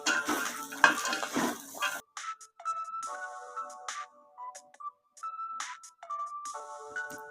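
Vegetables sizzle and rattle as they are stirred in a pan for about two seconds, then a bright electronic ringtone melody plays in short repeated phrases against near silence.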